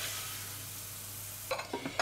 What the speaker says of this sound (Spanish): He retirado parte del aceite de freír las patatas y he dejado solo un poquito, en el cual vamos a sofreír un poquito el ajo.